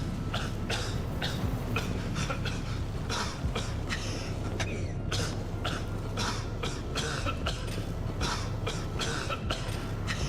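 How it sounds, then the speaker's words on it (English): A character in a horror video game coughs repeatedly, with rapid, harsh bursts in an irregular rhythm running throughout over a steady low game hum, loud and close, with no talking. "Quit with the coughing."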